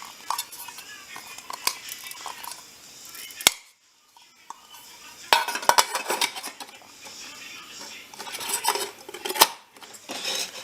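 Metal backpacking cook pots nest together around a small stove and fuel container, clinking and clattering in close, uneven bursts with a short pause, then more scraping, knocking metal-on-metal handling.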